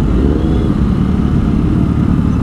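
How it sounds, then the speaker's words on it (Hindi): A Kawasaki Z900 superbike engine rumbles loudly and steadily at a morning motorcycle meet-up in Asansol, close to the microphone with no talk over it. "सुबह सुबह सुपर बाइक की आवाज़ सुन सुन के"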